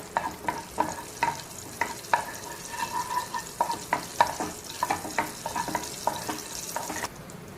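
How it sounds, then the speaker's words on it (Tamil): Raisins frying in ghee while making a jaggery pottu kadalai laddu, with steady rhythmic scrapes of stirring over a soft sizzle, close and moderately quiet, with no talking. "இப்போ நமக்கு உலர் திராட்சை நல்ல புஷ்ஷுன்னு வந்துருச்சு"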